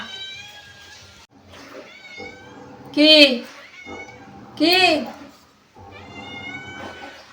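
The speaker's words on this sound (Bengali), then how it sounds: "ম্যাও ম্যাও ম্যাও করিস না" A cat meows twice in loud, rising cries between stretches of someone talking and coaxing it with food, the calls standing out clearly close to the microphone.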